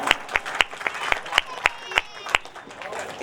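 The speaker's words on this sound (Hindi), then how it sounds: "तो जोरदार तालियां हो जाती हैं।" Sharp, spaced hand claps ring out at a cultural program held for Azadi ka Amrit Mahotsav during a ghazal recital, about ten distinct strikes in three seconds over ongoing talk rather than a full ovation.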